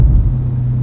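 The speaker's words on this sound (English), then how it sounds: "So here is how you make the burbles. Hear that?" Deep, steady exhaust rumble from a C8 Corvette fitted with an AWE Touring exhaust, a loud low drone held close by for under a second with no distinct pops standing out.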